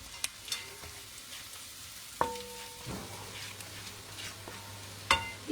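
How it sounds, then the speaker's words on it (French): Garlic frying in butter in a home kitchen pan gives a soft, steady sizzle with occasional sharp clinks and scrapes of a utensil stirring, heard close up with no talk. "Je fais un peu le beurre, le ail dans le beurre."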